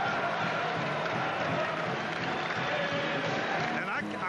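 Crowd roaring and cheering inside a basketball arena at an Iowa college game, a dense continuous roar filling the space, with a commentator's voice faintly under it.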